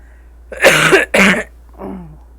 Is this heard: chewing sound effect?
no